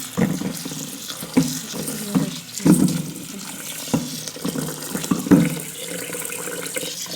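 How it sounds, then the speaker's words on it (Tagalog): Glutinous rice being washed in water for a Filipino sticky rice cake, with soft repeated sloshing and splashing swishes close by, no talk. "Hugasan natin sa tubig."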